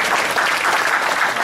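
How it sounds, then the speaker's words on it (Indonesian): A church congregation applauds in a steady, dense burst of hand-clapping that fills the whole short moment, with no voices over it. "Boleh tepuk tangan buat Tuhan Yesus"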